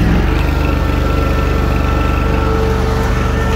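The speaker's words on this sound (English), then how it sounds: "This mower starts right up." A Snapper Z Rider Pro commercial zero turn riding mower runs loud and close, its engine holding a steady rumbling idle just after starting.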